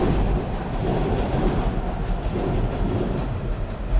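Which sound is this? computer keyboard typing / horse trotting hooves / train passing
train passing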